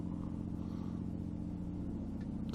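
Loud diesel boat engine, a Caterpillar or Detroit Diesel type, running steadily close by on a British Columbia coastal inlet, a constant low rumbling drone with no talk.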